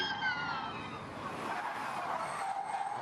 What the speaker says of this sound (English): You can hear the car bottoming out under the bumps.